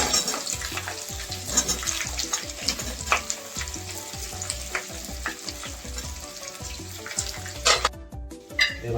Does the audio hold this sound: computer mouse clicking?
no